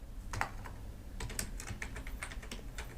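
Quick bursts of typing on a computer keyboard as a Google search is entered, clustered key clicks close up with brief pauses, no voice.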